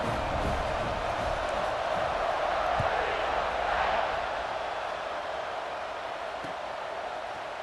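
Steady stadium crowd roar in a college football video game, a dense continuous wash of cheering noise at a constant level with no clear peaks.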